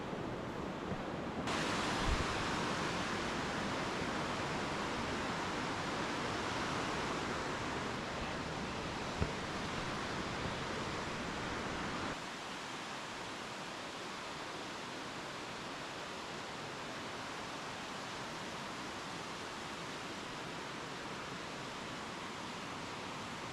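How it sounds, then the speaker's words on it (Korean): A mountain stream in Seoraksan rushes along its rocky gorge, a dense, continuous roar of water that holds loud and steady, then drops to a slightly softer level partway through, with no voices. "어느새 계곡은 가까워지고 물소리는 점점 더 커집니다"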